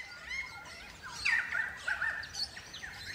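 Crimson rosella parrots in the wild giving several clear, whistled chirps and short calls at moderate distance, spaced irregularly over soft background ambience.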